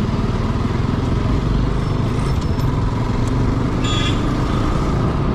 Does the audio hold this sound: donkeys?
no